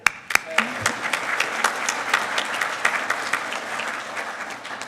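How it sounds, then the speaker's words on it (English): Applause fills the hall at a university spring master's hooding ceremony, a few sharp early claps swelling into steady crowd clapping that holds at moderate loudness. "Let's clap to that"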